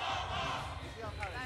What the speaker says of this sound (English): Cheer going up from the crowd here in the Congressium in Ankara.